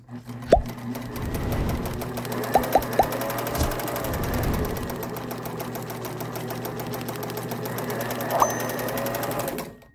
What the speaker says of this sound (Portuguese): Agora fazer um teste utilizando esse tipo de tecido aqui fino e já usando a sapata para costurar malha.